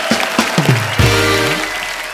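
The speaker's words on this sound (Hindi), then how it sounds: "एक बार राहत फतेह अली खान के लिए जोरदार तालियां।" A studio audience on a comedy talk show applauds singer Rahat Fateh Ali Khan: a loud, dense wash of clapping alongside sustained tonal musical or vocal sounds.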